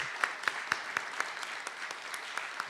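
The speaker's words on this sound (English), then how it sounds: "let's hear a nice round of applause for all of them" Faint, sparse clapping at a health equity seminar, a few distinct hand claps ringing out in a loose rhythm, quiet and somewhat distant, with no talk.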